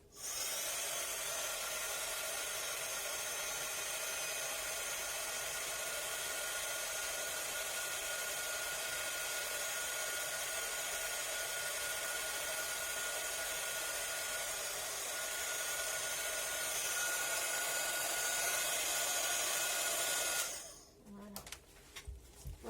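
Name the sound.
heat gun melting embossing powder on a Christmas card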